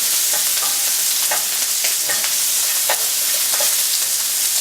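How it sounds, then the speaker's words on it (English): Onions frying in a hot pan for udon noodles with chicken and vegetables, a loud, dense, unbroken sizzle close by with soft intermittent scrapes from stirring. "you want to cook the onions just until they become slightly translucent"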